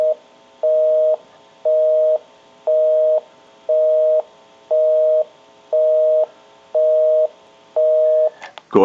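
A telephone busy signal pulses in a steady rhythm on an Automatic Electric three-slot payphone, nine even beeps about once per second, clear and close, ending with a handling clatter.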